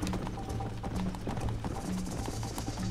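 Horses galloping in a race in Red Dead Redemption, rapid, continuous hoofbeats pounding close and loud in a steady rhythm, with a faint whinny in the mix.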